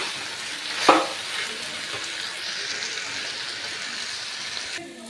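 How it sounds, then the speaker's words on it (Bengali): Water poured into a pan of frying spices with potato and carrot sets off a brief burst of sizzling, then a steady hiss of cooking continues alone, close and moderately loud. "এরপরে আমি আমার আন্দাজ মতন আমি সামান্য জল দিয়ে দিচ্ছি।"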